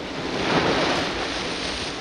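Sea waves surge and wash onto a pebble beach at the seaside, a steady broadband rushing roar with wind buffeting the microphone.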